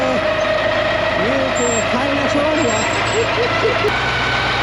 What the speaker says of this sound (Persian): این تانکر آب